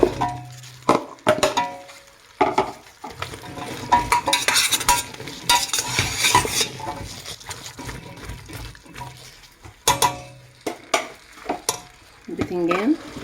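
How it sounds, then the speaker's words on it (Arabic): Sliced potatoes and zucchini are stirred in a frying pan for a home-cooked vegetable tray bake, with repeated scraping stirs over a steady sizzle and occasional clinks of a utensil against the pan. "ادي تقليبه. واقوم نازله بالبطاطس والكوسه."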